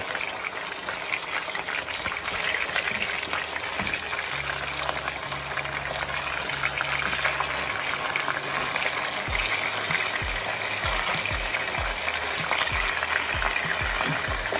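A pork chop fries in a pan with a continuous loud sizzling hiss, joined by a low steady hum and a run of soft rhythmic thuds toward the end; nobody speaks.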